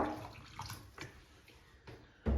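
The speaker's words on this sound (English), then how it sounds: "They want you to put a little bit more water into the unit so that you can quickly rinse it" Water splashes and runs into a Sani Bot D3X CPAP cleaner for a quick rinse, a steady close trickle broken by a few louder sloshes near the end.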